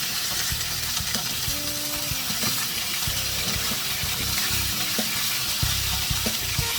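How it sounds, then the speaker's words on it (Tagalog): Cod fish frying in hot oil, a loud, dense, continuous sizzle close up, with faint steady hum and occasional tones in the background. "pwede nyo ng mainit na mantika sa kabila niya para pantay silang maluto"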